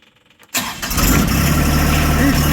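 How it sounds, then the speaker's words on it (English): A John Deere tractor engine cranks and catches after a brief quiet moment, then settles into a loud, steady rumbling idle up close. "Is the John Deere going to start?"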